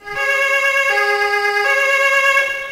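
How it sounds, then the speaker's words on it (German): An ambulance siren wails loudly and close by, its two-tone pitch stepping up and down in a steady alternating pattern with no talking. "Dazu kam der Rettungswagen vorbei."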